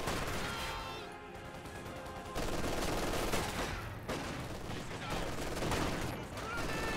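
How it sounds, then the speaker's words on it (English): Battle sounds from Company of Heroes 2, a rifle grenade going off amid dense, continuous gunfire and explosions, with a voice talking over the steady din. "Oh, another rifle nade."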